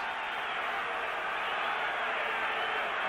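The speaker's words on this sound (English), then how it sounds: "A partisan crowd calling defense, defense." A partisan crowd at a 1971 Los Angeles Rams versus Baltimore Colts football game fills a stadium with a steady, distant roar, the chant blurred into a continuous wash of noise.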